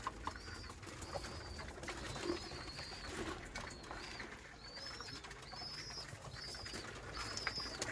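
Breeder pigeons at feeding time coo softly in repeated short calls, with occasional wing flaps and light pecking around them, close by and fairly quiet, with no talk.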